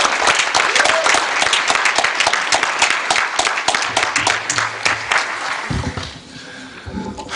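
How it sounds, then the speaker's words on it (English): A school board meeting audience applauds a school principal with steady, dense clapping that carries on for several seconds, then thins out and fades toward the end. "Let's give him a round of applause"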